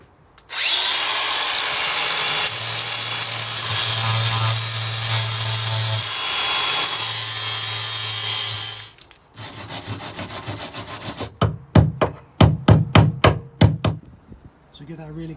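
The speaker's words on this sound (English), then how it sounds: "So we give that a really good sand, chip off any big lumps and bumps." Rusty metal is power-sanded before rust treatment, giving a loud, close abrasive whirring that runs for several seconds with a slight dip in the middle. The tool then stops, and a series of sharp scraping and chipping strokes follows.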